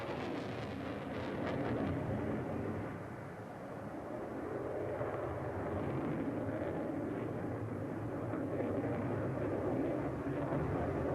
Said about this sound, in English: This is the Harrier Tornado F3, a two-seater air defense interceptor and the very latest concept in fighter design.